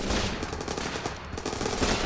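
Rapid bursts of automatic rifle fire in the war game Running with Rifles, loud and continuous across two seconds with overlapping shots and no talk.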